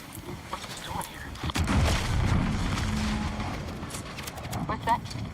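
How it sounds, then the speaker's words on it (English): A deep explosion in The Outer Worlds 2 rumbles up suddenly and rolls on for a few seconds, with a voice talking over it. "An explosion?"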